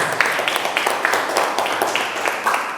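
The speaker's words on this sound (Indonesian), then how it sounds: "Tepuk tangan dulu." A small group in a classroom discussion session claps together in a quick, even rhythm for a few seconds. The sound is moderately close and steady.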